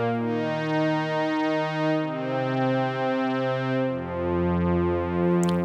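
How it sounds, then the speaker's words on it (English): Yamaha TX81Z FM synthesizer playing a low strings preset, smooth sustained bass notes shifting pitch every second or so, with a bright tonal sheen and nothing else around it. "So I've started off with a low strings preset on the TX"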